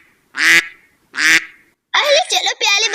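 A duck in an Indian village gives two loud, close, nasal quacks in quick succession, followed by a burst of voice-like sound.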